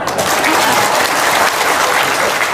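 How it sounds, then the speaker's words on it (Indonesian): Steady audience applause from a crowd at a live talk show, loud and continuous for a few seconds with no talking over it. "Tepuk tangan dong."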